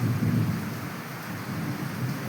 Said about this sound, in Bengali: মুসুল ধারে বৃষ্টি হচ্ছে চরম বৃষ্টি হচ্ছে